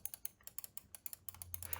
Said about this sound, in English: So this is what it sounds like with the previous generation of clicking mouse.